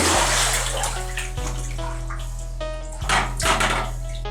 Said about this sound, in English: we're gonna go ahead and dump this water out